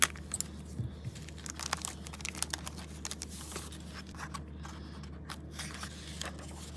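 Scissors cutting open a plastic bag of decals from an AMT model kit, close crinkling and snipping with sharp plastic clicks and rustles scattered throughout at a quiet level.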